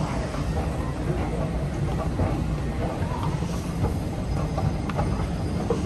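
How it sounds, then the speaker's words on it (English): DART light rail train passing at an underground-style city station in Dallas, a steady low rumble and rolling clatter of wheels on track at moderate distance, with faint ambient noise and no talk. "Okay, I hope that's not the train I want."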